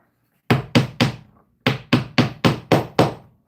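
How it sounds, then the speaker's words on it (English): Trusty wooden mallet striking hard, close up: eight sharp, solid knocks, three quick ones, then a short pause and five more at an even, steady pace, each ringing off briefly. "Bust out the trusty wood mallet"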